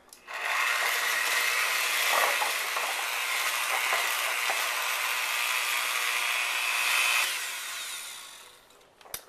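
Electric hand mixer beating cupcake batter with flour just added, a steady whirring motor drone lasting several seconds with rattling, scraping texture before winding down at the end.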